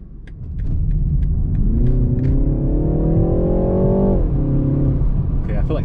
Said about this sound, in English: sport mode actually made the car sound a little more throaty, a little more vocal.